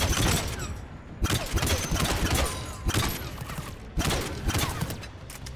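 Rapid rifle fire through a thermal scope in Mass Effect 3, a loud sustained volley of close shots in three or four long bursts separated by brief pauses, with no talking.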